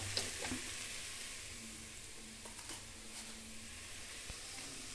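Rice poured into a hot pan of turmeric masala on low gas for palawa sizzles softly, a steady faint frying hiss with a few light stirring clicks, heard alone without speech.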